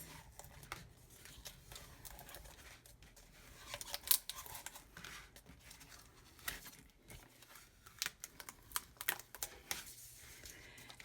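Excess printed sticker paper is peeled and pulled off a Cricut cutting mat, giving close, irregular bursts of crinkly tearing and rustling with short pauses between pulls and no talking.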